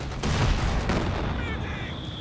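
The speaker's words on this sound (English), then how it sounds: "Stocky just getting annihilated by these mortar pits" Mortar pits in Company of Heroes 2 pound away in a 2v2 match: deep booming blasts and rumbling explosions roll continuously in a dense battle mix.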